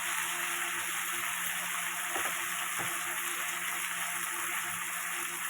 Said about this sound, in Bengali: হলুদ দিলাম মানে একটু কষানো হতে থাক